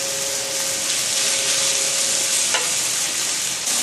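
Beef sears in a hot pan during a saute for vegetable beef soup, giving a loud, steady, dense sizzle with faint stirring scrapes throughout and no voices.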